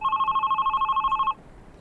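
A telephone rings close and clear with a rapid trilling electronic warble that cuts off abruptly after about a second and a half, leaving a quiet room.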